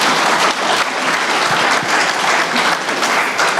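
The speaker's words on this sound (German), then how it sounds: "Das ist ein Applaus wert, oder?" Audience applause fills a panel discussion on forests, climate and education, a dense, steady clapping from many hands that holds loud and even throughout with no talk over it.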